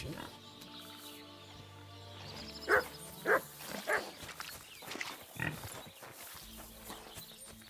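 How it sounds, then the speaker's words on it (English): A dog in the medieval video game Kingdom Come: Deliverance II gives a quick series of three or four sharp barks, clear and close over a quiet game background. "You're my doggy, eh?"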